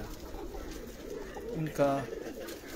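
Pigeons bred by a breeder of Lahore coo softly in the background, a low murmuring presence beneath a voice that talks over most of the moment.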